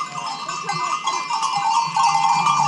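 Sheep with clanking cowbells being herded by a dog on a mountain trail in the Picos de Europa, a steady busy jangle of bells with bleats mixed in, fairly close and continuous throughout.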